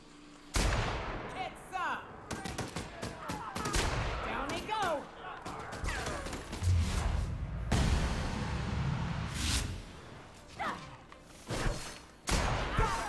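Sniper rifle fire in The Outer Worlds on Xbox One comes as repeated sharp, loud cracks with booming tails. Thuds and clatter from the fight are mixed in, along with some voices.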